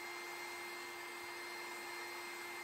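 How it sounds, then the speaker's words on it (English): Grinder smoothing a re-welded seam on a steel lily sculpture, a steady high whine holding one constant tone throughout, close and unbroken with no talking. "Clean that up, re-weld that, grind it smooth."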